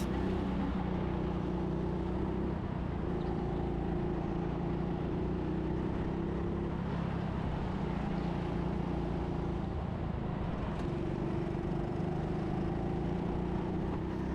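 Go-karts race around a Manchester karting track, a steady droning engine whine holding throughout, its pitch shifting as karts pass and change speed, heard from close by without any talking.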